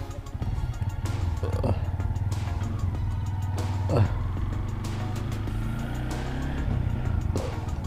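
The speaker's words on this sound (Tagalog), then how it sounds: "Back to normal yung traffic." Morning road traffic with cars and motorcycles, a steady low engine drone with several vehicles passing and revving nearby, occasional clatter and brief louder swells, no talking.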